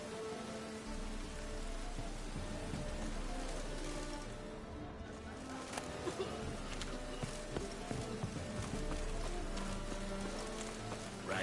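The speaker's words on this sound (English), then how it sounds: "Rain again." Rain falls steadily in The Witcher 3 video game, a dense continuous patter that holds at a soft, even level throughout, with faint scattered taps and hooflike clops underneath.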